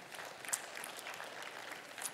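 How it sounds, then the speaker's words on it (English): Light, scattered clapping from a church congregation during a sermon, faint and thin with a few sharper claps standing out over about two seconds. "that was a very weak golf clap for that"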